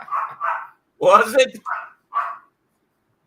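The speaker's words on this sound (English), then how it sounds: "He's hearing all of my dogs barking." Several dogs barking in short separate bursts, loud and close, with a person briefly talking in the middle.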